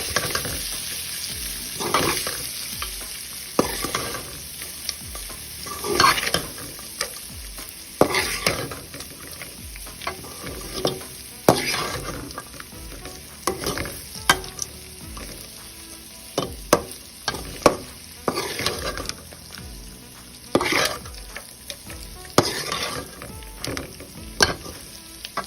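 Cooked rice for lemon rice is stirred in a pan with a soft sizzle underneath and repeated scraping and clinking from the spoon, close and irregular, with no talking.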